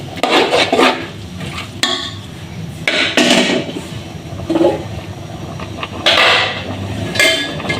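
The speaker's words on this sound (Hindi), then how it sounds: "कुकर को बड़े अच्छे तरीके से साफ चम्मच के मदद से" A metal spoon scrapes around the inside of a pressure cooker as it is cleaned in a home kitchen: a run of loud, close, irregular scraping and clanking strokes with short gaps between them, and no voices.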